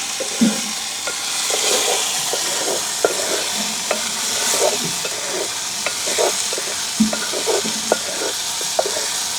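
Pirandai is tossed and sautéed in oil in a pan in a village kitchen, a loud close sizzle underneath irregular scrapes and soft knocks of the stirring spoon, carrying on steadily without any voices.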